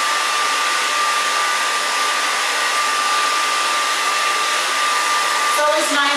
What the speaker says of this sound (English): blow dry this way.